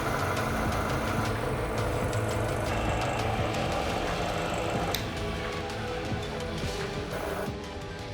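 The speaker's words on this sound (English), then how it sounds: "we'll show you a never-before-seen shot of the generator outdoors, where we'll put it to the test and take measurements" A Liberty Engine 5.0 generator runs steadily outdoors under test, giving a continuous mechanical hum and drone with faint clicks, constant in level and slightly quieter near the end.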